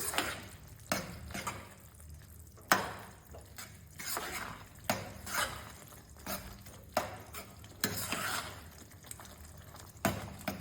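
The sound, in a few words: stirring vaghareli khichdi in a pot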